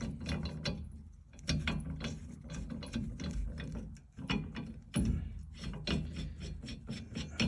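A ratchet wrench clicks rapidly and continuously as bolts are tightened on a 1979 GMC camper van, close and steady, with brief pauses between bursts and no talk.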